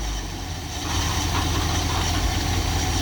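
A 318 V8 engine idles at operating temperature with a steady, loud low rumble and even mechanical churn that grows slightly fuller after the first second, with no talking.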